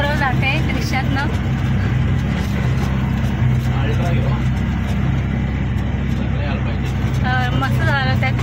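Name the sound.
autorickshaw engine running while driving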